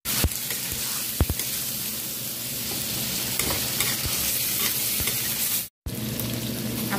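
Canned corned beef frying with ginger in a hot pan, a loud, dense continuous sizzle with occasional scrapes and knocks of a stirring spoon, close up, briefly cutting out near the end.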